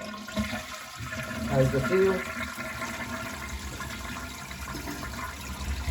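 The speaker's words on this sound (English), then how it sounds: "Flush the system." A household toilet with a metal tank lever, just repaired, flushes with a rushing swirl of water, then the tank refills with a steady hiss, while a person speaks briefly nearby.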